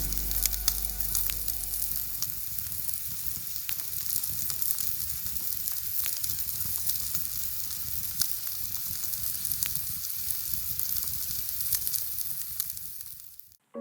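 Steak sizzles on a hot stone at a wild camp in Scotland, a steady, close crackling hiss with small pops that carries on evenly before cutting off abruptly at the end.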